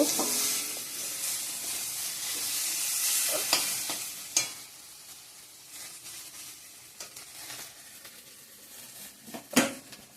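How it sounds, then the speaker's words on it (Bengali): Okra frying in a pan gives a steady soft sizzle with occasional scraping stirs and light clinks of a utensil against the pan, fairly quiet and close. "আমার এদিকে ভেন্ডি ভাজাটা হয়ে গিয়েছে, নামিয়ে নেব।"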